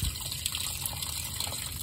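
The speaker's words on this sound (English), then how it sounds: "This is a lot of water." Water gushing steadily out of a Koehring 205 excavator as it is drained, a continuous close splashing rush that holds at an even level throughout.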